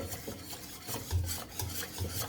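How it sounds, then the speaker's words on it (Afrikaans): A spoon or spatula scrapes and stirs sago milk pudding in a pot on the stove, a quiet rhythmic series of rasping strokes about every half second, close by and heard alone. "nou gaan ons dit aanhoudend roer tot dit kook"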